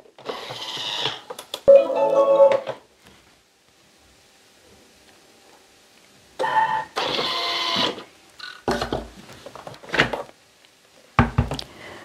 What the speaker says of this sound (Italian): azionare il bimby per 50 secondi a velocità 5